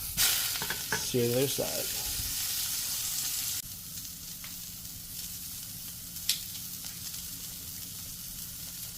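ButcherBox meat sears on a hot grill with a steady sizzling hiss that drops a bit quieter partway through, and a short spoken remark comes near the start.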